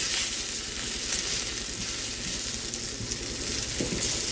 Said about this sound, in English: now that we've got our mushrooms lovely and brown